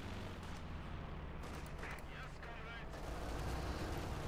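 Sustained battlefield gunfire from Company of Heroes 2, with machine gun bursts blending into a dense, rumbling wash of distant shots and explosions under steady ambient noise.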